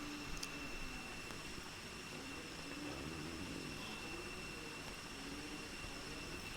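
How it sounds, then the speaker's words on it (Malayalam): An airplane in the Indian Bikes video game drones with a steady, fairly quiet engine hum and faint high whine, continuous and even with no talk over it. "നമ്മുടെ പ്ലെയിൻ പറന്നിട്ടുണ്ട്."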